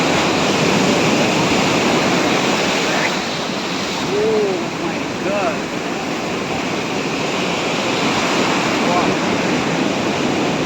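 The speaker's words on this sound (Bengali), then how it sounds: "জলের গর্জনগুলো একটু পুরো অন্য লেভেলের।" Ocean surf roars loudly and continuously on the beach at Puri, a broad rushing wash of breaking waves with wind buffeting the microphone and faint voices and bird calls in the background.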